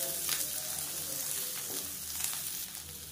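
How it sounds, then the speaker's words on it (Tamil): Chopped betel leaves sauté in a pan, a soft, steady sizzle with light stirring rustles and a faint low hum underneath, with no voices. "இதையும் சேர்த்து அந்த வெத்தலை சுருங்குற அளவுக்கு வதங்கிக்கலாம்."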